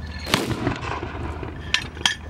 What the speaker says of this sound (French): Donc là on a un mortier M2 reproduit pour faire du reenactment